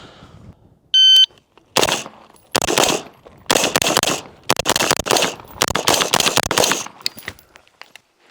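Rapid rifle shots from HK and Daniel Defense rifles fired while moving during training, arriving in five loud bursts of sharp cracks with short pauses between, preceded by a brief electronic beep from a timer.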